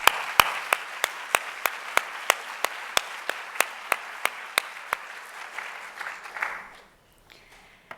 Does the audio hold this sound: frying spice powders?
no